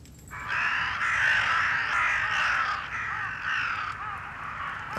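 A crow caws loudly and close by in a run of harsh, drawn-out calls that carry through the whole stretch, with no one speaking.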